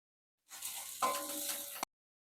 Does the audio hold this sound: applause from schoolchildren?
no